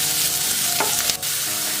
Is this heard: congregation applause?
no